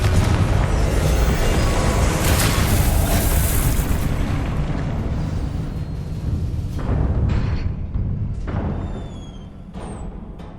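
Confringo explosion spells cast in the game Hogwarts Legacy burst with loud rumbling booms and crackling blasts, several impacts in quick succession that fade into a few sharp, lighter effects.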